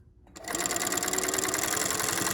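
A sewing machine stitches a fabric face mask with a steady, fast mechanical whir that starts abruptly after a brief quiet moment and runs continuously and loudly to the end, with no talking.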